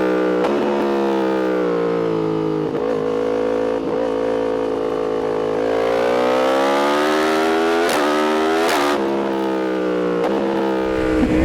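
2024 Yamaha R1 with its crossplane CP4 inline-four, loud and close, revving hard through rising and falling engine pitch with sharp gear-change breaks, no talk over it.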